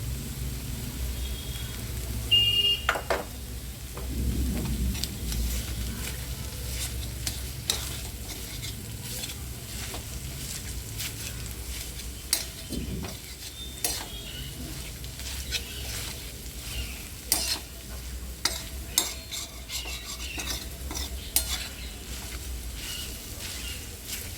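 Egg, cheese and chutney frying in a little oil in a pan, with soft continuous sizzling under repeated sharp scraping and stirring clicks of a spatula, close and moderately quiet.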